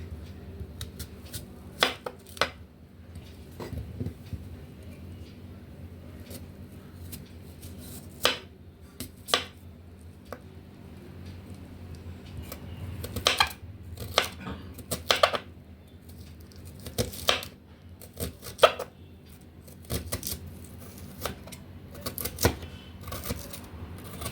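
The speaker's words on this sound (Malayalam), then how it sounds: "കുഞ്ഞു കുഞ്ഞാന്ന് അരിയണം" Onion is finely chopped with a knife for parippu vada, heard as scattered, irregular knife clicks and taps on a board, sometimes in short bursts, close and clear against a quiet background.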